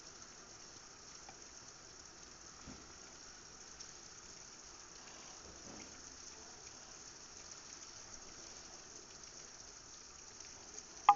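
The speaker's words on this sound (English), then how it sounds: "raining" Steady rain falls outdoors, a soft continuous patter that stays even and moderately faint throughout, with a brief sharper knock at the very end.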